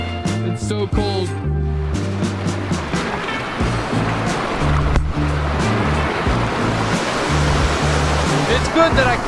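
Rushing water from a hidden waterfall in Chechnya keeps up a steady, loud wash throughout, with music playing over it.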